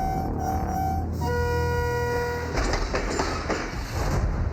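A train nears on railway tracks near Quetta, its whistle sounding in loud sustained tones before giving way to rumbling, clattering wheels and rail noise close by.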